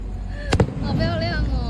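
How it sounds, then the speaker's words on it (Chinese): A firework bursts once at Leofoo Village amusement park, a single sharp, fairly close bang while voices carry on around it. "我们等到放烟火了。"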